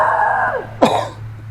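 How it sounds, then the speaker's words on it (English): A single sharp cough from a man working on a Toro lawn mower, cutting through a faint steady hum, preceded by a brief trailing vocal sound. "Excuse me for the cough."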